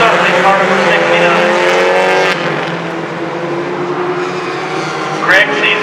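Race cars roar around a dirt track during a Hornets-class heat race, engines loud and sustained as they pass, with a commentator talking over the noise.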